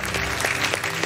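Church congregation at an evening worship service breaking into acclaim, a brief dense burst of clapping and cheering voices filling the hall, loud and continuous.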